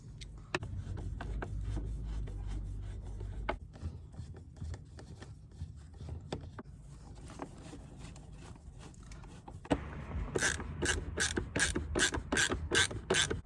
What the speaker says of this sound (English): I just went ahead and grabbed my 1/4 inch ratchet with like a 7 or 8 millimeter socket, and those went in way better